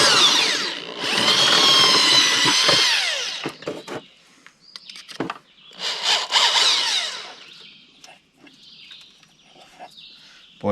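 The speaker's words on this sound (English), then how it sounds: "I think I'm going to drill my hole right here." A power drill boring a hole with an extra-long bit, two loud sustained whirring bursts with shorter grinding spurts and pauses between, close and alone.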